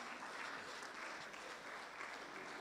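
Conference audience clapping for a speaker at a youth conference in Kaduna State, a continuous, fairly faint wash of many hands heard from a distance in a large hall.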